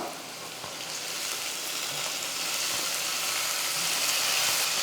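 Boiled cabbage frying in a pan for cabbage poriyal, a continuous close hiss and crackle that slowly grows a little louder, with faint scrapes of stirring and no voices.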